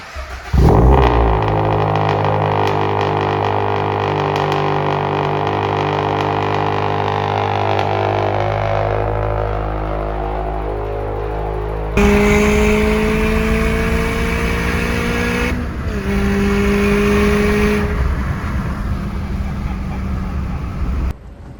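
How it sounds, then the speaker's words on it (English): Turbocharged Toyota GR86 with an intercooler, driving: a loud, continuous engine drone rising and falling through gears, heard from inside the car, with pitch shifts between shifts and possible turbo flutter as the throttle lifts. "The turbo flutter sounds really nice with the intercooler."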